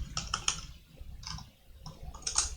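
Fingers tap numbers on a computer keyboard in short clustered bursts of crisp, close clicks, with a brief pause in the middle and no talking.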